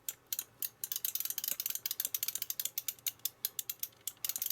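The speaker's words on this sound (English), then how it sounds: "Oh, proper clicky." A clicky arcade joystick is pushed around rapidly, giving dense bursts of crisp plastic microswitch clicks in quick irregular clusters, close and fairly quiet with no talk.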